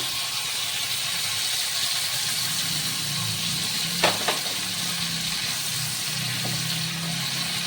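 Tomato puree going into a pan of chicken mince pasta sauce, giving a steady low sizzle and bubbling with a faint clink or scrape partway through.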